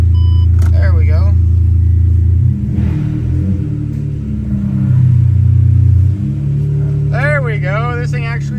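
A Ferrari 599 rumbles steadily while driving slowly, its deep low engine drone continuous throughout with a brief dip midway, as people talk over it.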